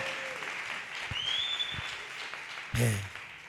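A church congregation claps their hands together in a steady, dense patter that continues throughout, with a single heavier thump near the end.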